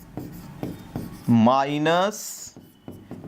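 Chalk or marker strokes on a classroom board during a chemistry lesson on electrode potentials, several short scratchy bursts before and after a voice speaking in Hindi.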